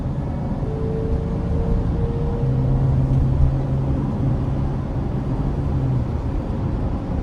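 A 2022 Mercedes-Benz 3500XD van with a 3.0-litre turbo inline-six drives steadily while shifting through paddle-shifted gears, a constant low engine and road rumble inside the cab with a few steady tonal hums rising and falling.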